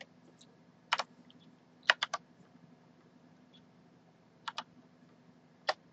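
Quiet keystrokes on a computer keyboard while a VLOOKUP function is entered in Microsoft Excel 2010, coming in short bursts of a few close clicks with pauses between them, alone against a faint steady hum.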